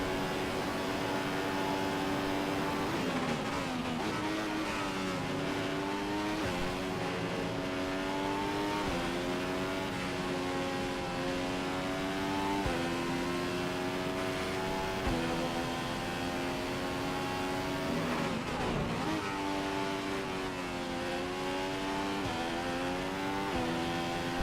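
Formula 1 race car engine in the F1 2015 game at the Spanish Grand Prix, screaming continuously at high revs with repeated gear shifts and rising and falling pitch over a long stretch.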